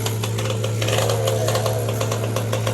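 A Yamaha PW80 dirt bike engine runs steadily at close range, a loud buzzing drone with a rattling edge and no pauses.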